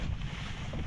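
Strong wind blows outdoors during crop spraying, a short burst of low, rumbling gusts buffeting the microphone, with no one speaking.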